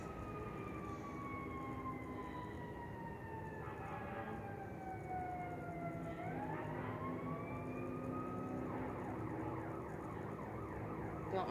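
Emergency vehicle sirens wail outside, faint and distant, their tones sweeping and falling as they pass, with a second siren rising and warbling over a low background hum.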